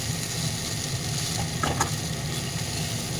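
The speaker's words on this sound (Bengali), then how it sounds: "নেড়ে নিচ্ছি।" Maggi and Hakka noodle chowmein being stirred in a pan, a steady close sizzle running throughout with a couple of brief scraping strokes near the middle.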